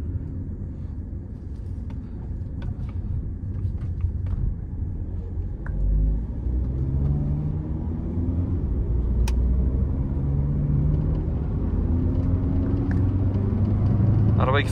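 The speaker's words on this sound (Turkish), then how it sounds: "Çok güzel hızlanıyor araba." A 2018 Volkswagen Caddy 2.0 automatic accelerates while driving, heard from inside the cabin as a loud, steady low engine and road rumble that builds slightly over time.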